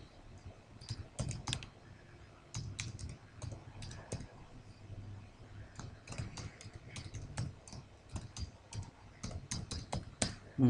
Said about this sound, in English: type a file name